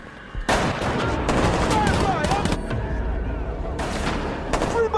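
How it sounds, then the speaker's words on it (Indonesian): Gunfire erupts in a battle between Fireflies and the military in The Last of Us, with loud close bursts of rapid shots and heavy booms. Shouting voices run under the shooting throughout. "tempat tersebut terkena granat pertempuran antara Firefly dan juga pihak militer dan sialnya Tess ditangkap"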